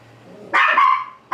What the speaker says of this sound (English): puppy barks at very random things. And I don't know why she's barking now